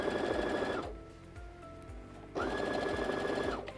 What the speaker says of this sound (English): In this demonstration, I'm using the Brother PS500 sewing machine.